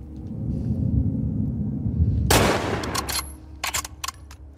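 A gunshot in the video game The Last of Us Part 2, one sharp loud blast cutting through a rumbling low background, followed by a few short clicks and clatters.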